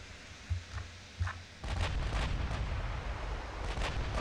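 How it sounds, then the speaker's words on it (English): Battleship guns fire in a naval combat game, Ultimate Admiral Dreadnoughts. Two muffled booms are followed by a continuous heavy rumble of rapid cannon fire at moderate volume. "Our super firing guns are just going at it."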